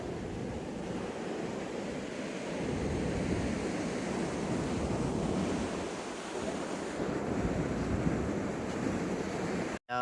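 Steady surf washes onto the shore at Vayangani beach in Konkan, a continuous rushing roar of waves with wind blowing across the microphone, and no voices.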